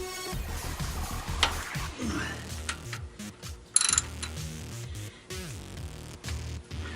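A socket ratchet clicks in quick, irregular bursts while tightening the oil drain plug on a 2003 Chevy Express 1500, with close metallic ticking and faint clanks.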